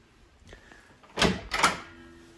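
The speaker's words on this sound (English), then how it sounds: "This is the back door." A house's back door is handled, a quiet rattle followed by two solid thumps in quick succession, close by in a quiet room.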